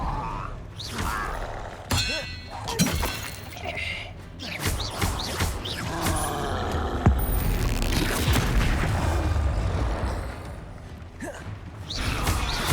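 Spell blasts, booms and shattering clangs from the Hogwarts Legacy video game combat, a busy, loud stream of impacts and magical bursts with a voice calling out over them.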